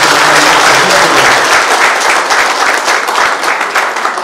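A dense, loud round of audience clapping fills a BJP party induction event in Navi Mumbai, steady throughout and fading slightly toward the end, with no voices heard.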